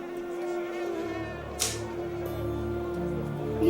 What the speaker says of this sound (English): These mosquitoes are only getting fatter.